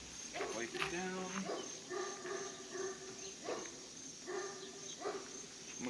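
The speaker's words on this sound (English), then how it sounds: "I'm going to apologize ahead of time for my neighbors barking dogs" Neighbors' dogs bark on and off in the background, a string of separate yaps and woofs, fairly distant and moderate in level, with a steady hum of ambience underneath.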